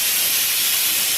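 A pressure cooker of sakkarai valli keerai greens cooked with dal gives off a continuous, loud, close hiss of escaping steam, steady and unbroken throughout.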